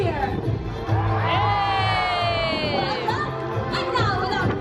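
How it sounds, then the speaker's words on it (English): A cruise ship crowd at a Disney pirate night event roars a loud pirate cheer, a dense wall of shouting and whooping voices that swells quickly and holds steady before trailing off. "let's hear a loud pirate cheer!"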